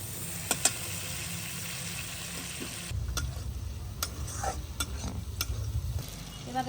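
Fish and prawns sizzle in a hot pan while being stirred, with sharp utensil clicks and scrapes over a crackling fry that gets louder partway through; no voices.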